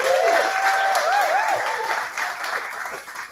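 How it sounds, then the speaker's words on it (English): A crowd at a ceramics throwing competition claps warmly for the competitors, a short steady burst of applause with a few whoops that tapers off toward the end. "giving a round of applause to all 20 of our competitors who are here today"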